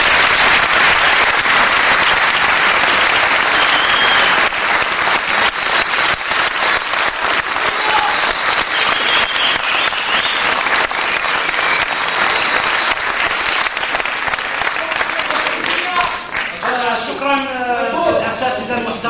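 A theatre audience gives loud, sustained applause at the close of a 2009 Moroccan stage play. The clapping fills the whole stretch, and a voice begins speaking near the end.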